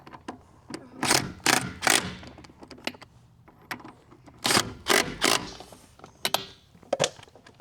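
An impact wrench tightens wheel lug nuts in a star pattern. Short, sharp rattling bursts come close together in irregular groups, with brief quiet gaps between them.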